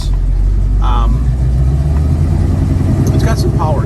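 A 1971 Pontiac Firebird cruising on the freeway, its engine a steady, loud low rumble with road noise throughout, and a faint voice briefly heard over it.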